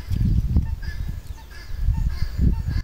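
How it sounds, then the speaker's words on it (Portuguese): Several harsh, rhythmic guineafowl calls repeat in bursts at a moderate distance from roadside scrub, over rustling outdoor background noise. "Deve ter um monte de galinha de Angola ali, ó."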